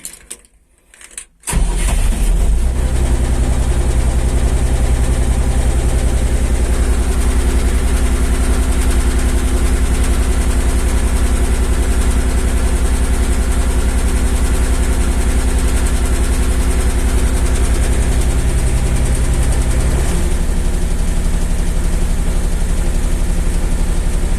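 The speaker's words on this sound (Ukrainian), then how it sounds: "ми знаходимося в кабіні екскаватора. Зараз ми його заводимо." An MD-3 mini excavator's engine cranks and catches after a short start, then settles into a loud, steady idle heard close up from inside the cab.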